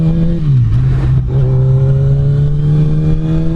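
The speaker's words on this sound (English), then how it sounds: "We're gonna go ahead and ride down this road here, get up to normal-ish speeds" A motorcycle engine drones steadily at cruising speed, its pitch dipping briefly then holding level, with a constant rush of wind noise over it.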